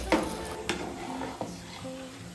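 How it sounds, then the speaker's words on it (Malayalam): Sliced onions sauté in a pan for prawn biryani, with a soft steady sizzle broken by a few sharp clinks and scrapes of a spoon stirring against the pan, close and alone. "ഒരു ഗോൾഡൻ കളർ ആവുന്നത് വരെ ഉള്ളി ഒന്ന് സോട്ട് ചെയ്തെടുക്കാം."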